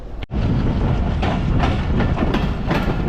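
A commuter train running from Joydebpur toward Dhaka pulls away, its wheels rattling in a loud, steady clickety-clack close by after a brief dropout at the start, with no talking.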